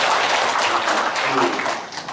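Broad, sustained applause from the audience at a Gumi Chamber of Commerce forum on regional job creation, loud and close, tapering slightly toward the end.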